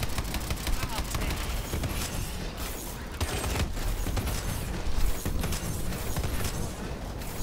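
Gunfire in Call of Duty: Advanced Warfare Exo Zombies: dense, continuous shooting and mechanical clatter that fill the whole stretch at steady loudness, with talking mixed in.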